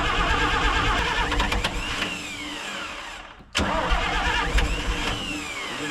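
An old cabover truck with a suspected oil pressure line leak cranks and starts, its engine running loud and rough throughout, briefly dropping out near the middle before catching again and running on.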